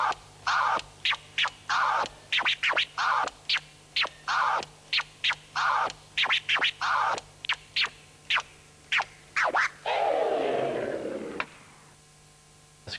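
Turntable scratching on vinyl with crossfader cuts gives short, sharply chopped bursts in quick irregular rhythm, ending in a longer sweeping scratch that fades away.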